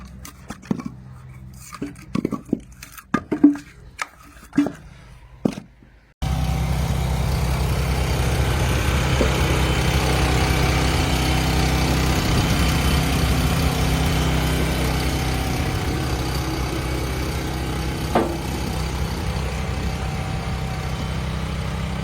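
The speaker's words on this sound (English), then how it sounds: "Its engine hums to life, exhaling thick white plumes that mix with the morning fog" The engine on a firewood splitting machine idles with a steady, low rumbling drone that holds for about fifteen seconds. It follows a few sharp metallic clanks and knocks.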